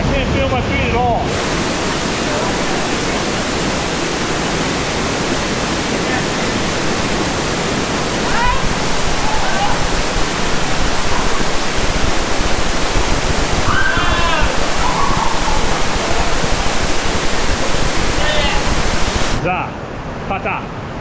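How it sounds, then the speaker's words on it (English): Zapata Falls in Colorado pouring inside a cave, a loud continuous roar of falling water heard up close, growing slightly louder midway and then cutting out near the end, with faint voices briefly audible over the rush. "Zapata Falls. Waterfall in the cave."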